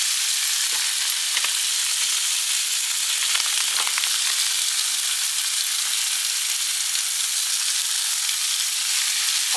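Eggs fry in a small, crowded pan, giving a loud, continuous sizzling hiss with faint scattered pops and no talking.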